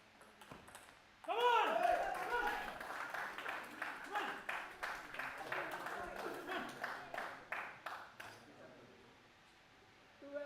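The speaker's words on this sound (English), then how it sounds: "everybody along the sidelines are cheering" Spectators at a state table tennis championship in Goa break into a burst of cheering and clapping, then settle into rhythmic applause that gradually fades, with a commentator talking over it.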